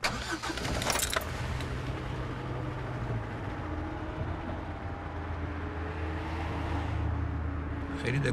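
A car engine cranks and catches after a rattle of keys, then settles into a steady low idle that runs on under the cabin noise.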